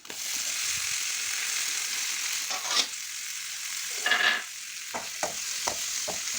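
Tomatoes with spice powders sizzle steadily while frying in a pan for chickpea curry, with a few sharp spoon-stirring scrapes and clinks breaking through near the end; no one speaks.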